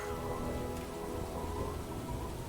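Steady rain pours under low rumbling thunder, a loud, continuous stormy ambience played from a tabletop role-playing soundboard, with no voices.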